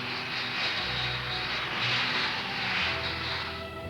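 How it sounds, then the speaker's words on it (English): Hawker P1127 jump jets with Pegasus engines take off from a concrete runway and a soft grass verge at a 1960s Farnborough airshow, giving a loud, continuous roaring jet wash that swells and eases. "The astonishing Hawker P1127s show their versatility by taking off first from a concrete runway and then from the soft grass verge."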